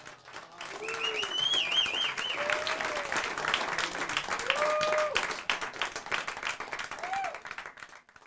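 Audience applause at a live show in Colorado, a dense steady clapping that runs for about eight seconds, with a few sung or voiced tones drifting over it before it thins out at the end.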